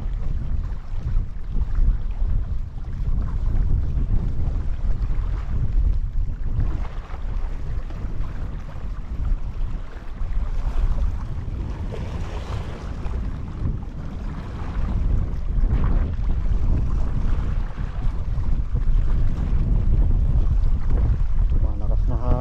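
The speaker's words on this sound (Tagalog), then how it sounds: "Malakas na hangin." Strong, steady wind gusts buffet the microphone on a small fishing boat out on open water, a loud, continuous roar with water sounds beneath and occasional faint voices.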